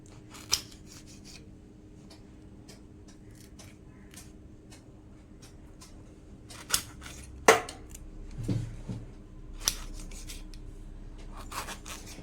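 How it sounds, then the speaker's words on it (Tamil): A knife cuts unpeeled bananas into small pieces, giving a few sparse, soft chopping taps and scraping rubs against the board, quiet and close with silence between the cuts. "அதுக்கு நான் கொஞ்சம் சின்ன சின்ன பீசஸாக கட் பண்ணிக்கிறேன்"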